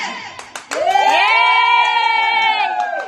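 A crowd of children shouts and cheers at a game, a few short calls followed by a loud, sustained collective scream that holds for a couple of seconds before tapering.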